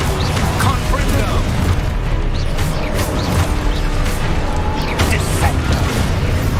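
Confringo fire blast spell in Hogwarts Legacy, a string of booming, crackling spell impacts and mechanical clatter over several seconds, loud and busy, with game voices underneath.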